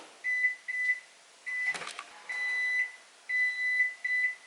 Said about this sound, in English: Now I'm just going to microwave it for maybe just a minute so it becomes a little bit warm.